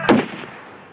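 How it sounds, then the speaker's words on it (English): .50 caliber rifle fired outdoors at a bottle target, one huge sharp blast with a long, fading rumble and echo trailing behind it. "That is by far the loudest firearm I've ever heard in my life."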